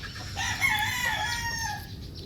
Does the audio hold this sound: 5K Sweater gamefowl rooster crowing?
yes